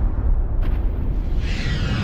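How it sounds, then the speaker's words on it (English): An explosion effect for a massive star ending as a supernova in a space documentary gives a loud, deep rumbling boom that sustains throughout, with a brief whooshing burst near the start and a hissing wash rising toward the end. "Massive stars end explosively."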